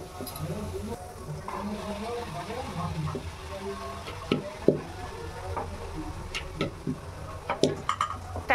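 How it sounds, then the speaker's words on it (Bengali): Luchi frying one at a time in hot oil in a wok, a steady close bubbling sizzle with occasional sharper crackles and pops toward the end. "আমি এখন একটা একটা করে লুচি সব ভেজে নিচ্ছি"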